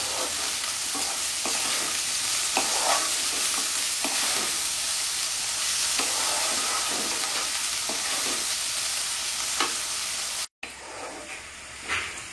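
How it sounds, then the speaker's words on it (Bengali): Onions frying in oil with a pinch of salt in a pan for a Bengali mutton kosha: a loud, close, continuous sizzle with occasional stirring scrapes, cut by one brief dropout near the end. "পেঁয়াজটা বেশ লাল লাল করে আমি ভাজবো।"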